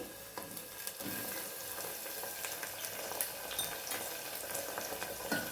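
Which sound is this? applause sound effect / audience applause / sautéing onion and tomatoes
sautéing onion and tomatoes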